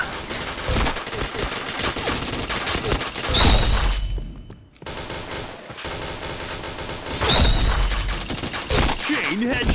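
Video game gunfire comes in rapid, loud bursts of automatic shots, with a brief lull in the middle before the shooting resumes.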